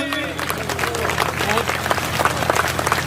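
A crowd at a Hindi poetry recitation claps, dense applause rising and rippling steadily, with a voice talking over it at the start.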